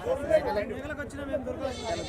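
Goats bleat at the weekly Saturday livestock market in Dubbaka, with a few wavering cries close by under continuous nearby talk.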